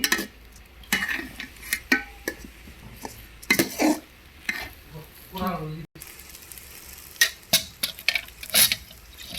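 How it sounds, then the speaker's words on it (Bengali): Khichuri ingredients with turmeric and mustard oil being stirred in a pot, with intermittent scraping and clinking of a spoon against metal and a soft sizzle underneath, broken by short pauses and brief human sounds. "এখন দিয়ে দিলাম সরিষের তেল এখন সবগুলা একবারে একটু নেড়ে নেব"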